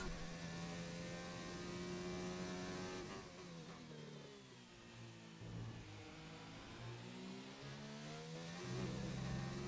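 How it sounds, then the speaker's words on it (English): A video game F1 race car engine revs hard in third gear, its high whine climbing and dipping as the revs rise and fall, loud and continuous with no talk. "I gunned it over here, hoping that I was in high enough RPMs in third"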